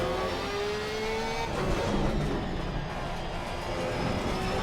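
Race car engine from a racing game at a four-hour Barcelona endurance event, overtaking a McLaren, with a steady, loud engine drone and faint pitch changes throughout, and no talk.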